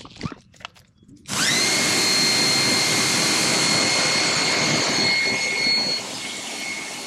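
A water hose sprays a Harley wheel rim. After a short quiet start the spray bursts on and becomes a steady, loud, close hiss that eases slightly near the end.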